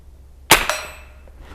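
A single shot from a Henry Frontier long-barrel rifle firing CCI standard ammunition at an outdoor range, a sharp, fairly loud crack followed a moment later by a faint metallic ring from a distant target, with no talking.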